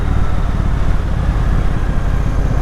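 A Triumph Bonneville T120 motorcycle cruises in sixth gear, its engine giving a loud, close, continuous low rumble that holds steady throughout, with no voices heard.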